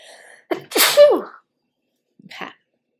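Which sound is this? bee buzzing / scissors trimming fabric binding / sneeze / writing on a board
sneeze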